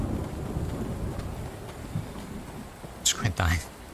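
Steady hissing rain fills a Fallout 4 game world, a constant wash of downpour with a few sharp bursts near the end and faint talk beneath.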